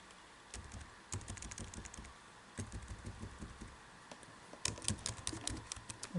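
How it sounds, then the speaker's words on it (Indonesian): Keys clatter on a computer keyboard in quick bursts of typing, close and clear, with short pauses between runs and a low hum underneath. "Coba kita ketik di sini."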